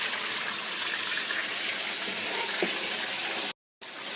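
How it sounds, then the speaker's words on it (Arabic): Pieces of grouper fish fry in a pan, making a steady, even sizzle throughout, broken by one brief silent gap near the end, with no one speaking. "وهذه قطع الهامور بنقليهم"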